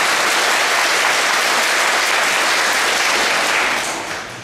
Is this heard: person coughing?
no